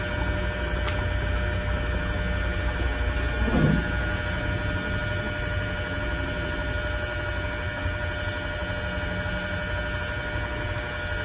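An electric fan runs steadily throughout in a room, a constant whirring drone with a mains-like hum, close and unchanging, with no talk over it.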